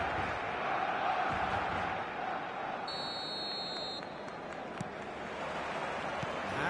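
Stadium crowd in the eFootball video game before kickoff, a steady low roar of many voices throughout, with a brief electronic buzzer tone near the middle.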